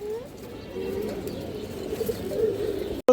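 Pigeons coo softly and continuously in a loft, a low murmuring burble of several birds close by with no talking.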